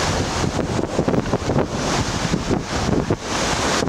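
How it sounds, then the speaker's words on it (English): Steady headwind gusting across a lakeside disc golf course at the 2002 North Woods Open in Lac du Flambeau, Wisconsin, a continuous loud rushing roar with microphone buffeting and no talk. "now Barry Schultz is going to go into that same headwind"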